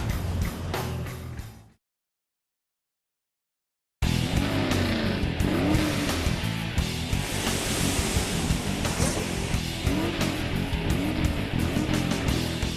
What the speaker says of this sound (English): I'm driving with the top down.